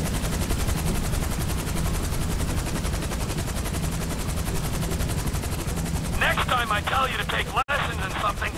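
A helicopter roars steadily in GTA V gameplay, with dense, rapid gunfire layered over it throughout. A burst of voice-like chatter rises over the din near the end.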